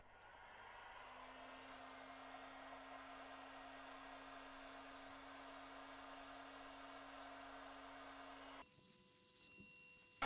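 A heat gun blows hot air to soften the glue on a label on a PS3 Slim, a faint, steady airy hiss with a low hum lasting several seconds before it cuts off abruptly with a short clunk.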